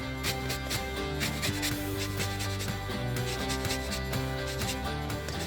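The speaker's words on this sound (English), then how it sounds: "So now the clementines have been zested" Clementine peel rasped against a grater, quick repeated scraping strokes in an even rhythm, close and moderately quiet with no talking.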